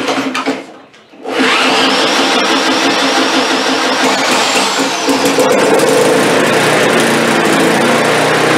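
An MTD push mower with a Briggs & Stratton 4.5 engine, found sitting in a barn, starts after a brief pull and then runs loud and steady at close range.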